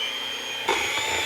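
An electric mixer whirs steadily in a deep bowl, close and fairly loud, the pitch shifting and the sound turning rougher partway through as the beaters strike the bowl or the batter.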